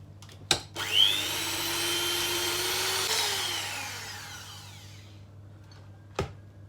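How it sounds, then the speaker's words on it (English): An electric mixer whisks egg whites for a lemon meringue, starting with a knock, then whirring steadily for several seconds as the pitch shifts and winds down, ending with a final clunk. "So we're going to whisk up the egg whites"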